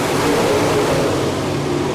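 Sprint race cars at a Barberville, Florida dirt track accelerate hard on the green flag, their engines a loud, continuous roar from close by with no speech.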